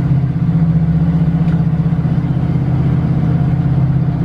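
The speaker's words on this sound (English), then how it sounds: "We just put a brand new exhaust system on the car." A 1977 GMC Jimmy High Sierra 4x4 convertible runs with a brand-new exhaust system, a steady, close, deep engine rumble at a constant idle-like pace.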